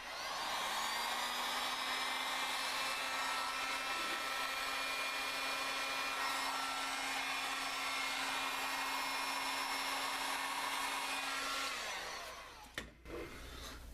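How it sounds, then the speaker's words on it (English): Heat gun blowing steadily on heat shrink tubing over the wiring of a dual-18650 MOSFET box mod, a close, continuous roaring hiss lasting about twelve seconds before it clicks off. "I'm going to hit that with a heat gun."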